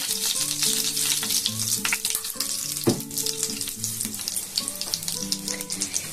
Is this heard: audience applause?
no